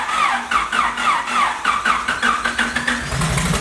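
A freshly rebuilt car engine, nicknamed Pink Widow, runs right after starting. It is loud and close, with a rough, pulsing idle that throbs in a steady rhythm.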